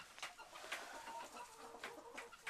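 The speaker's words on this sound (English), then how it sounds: "They're the mottled Cochins, bantams with feathered feet." Mottled Cochin bantam chickens with feathered feet cluck softly in a winter coop, several short, scattered clucks coming at an uneven pace, faint and fairly close.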